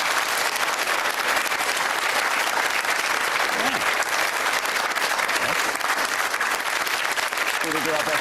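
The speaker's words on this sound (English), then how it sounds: "Give him a round of applause, guys." A studio audience on a talk show breaks into sustained, loud applause, dense clapping running evenly the whole time with faint voices briefly surfacing beneath it.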